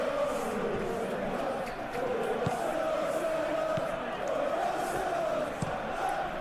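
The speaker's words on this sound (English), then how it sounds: "Now the crowd are demanding that they just finish this off." A football stadium crowd at an Arsenal versus Burnley match roars steadily from a distance, urging the team on with a sustained, dense wash of noise and no clear individual voices.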